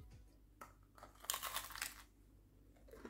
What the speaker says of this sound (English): Take a moment to listen to this crunch.